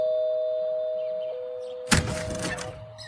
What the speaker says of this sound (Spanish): Después de 6 timbres, Ben por fin abrió la puerta.